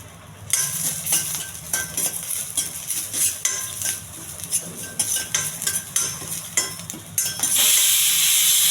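Cumin and dried red chilies sizzling in oil for a tempering, with repeated scraping and clinking of a stirring spoon over a soft hiss that swells into a louder, steady sizzle at the end.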